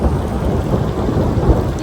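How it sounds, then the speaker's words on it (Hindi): Heavy rain and hail pelt down in a loud, steady roar during a thunderstorm at the Bijli Mahadev temple, with a deep rumble of thunder running under the constant wash of falling water. "बारिश ओले और तो तेज हो रहा है"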